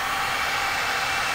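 A hair dryer set on low blows a steady, even whoosh across poured resin on a round board for an underwater wave effect. The airflow is close and constant, with no talking.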